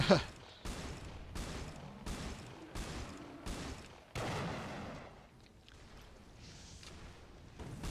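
Shotgun fire in the video game Resistance 2: a rapid series of booming shots at regular intervals, each with a short decay, alongside game ambience and a player's voice talking quietly underneath.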